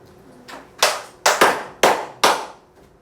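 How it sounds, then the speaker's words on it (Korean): A class of high school students claps in a classroom, about six sharp hand claps falling roughly in pairs, each ringing briefly in the room, close and fairly loud. "박수 2번만 쳐보면 안 돼?"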